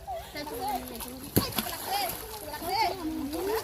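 Young children bathe in a village pond, splashing the water with a couple of sharp slaps amid chattering kids' voices.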